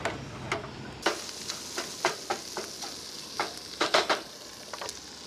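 Ground Johnsonville sausage fries in a small pan at a camp stove outdoors, with a soft, steady sizzle punctuated by repeated scraping and stirring clicks from a utensil.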